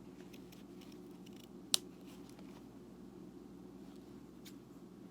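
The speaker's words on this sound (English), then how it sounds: "So I'm also going to be cutting it here" Scissors snipping through a disposable face mask, a few faint, soft cuts with one sharper close snip, over a steady low background hum.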